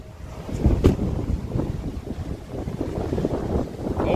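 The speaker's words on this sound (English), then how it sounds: "A little breezy out here" Steady wind gusting over the open water of Lake Erie during a stormy waterspout chase, a continuous rough rumble buffeting the microphone, swelling briefly near the start and staying loud throughout.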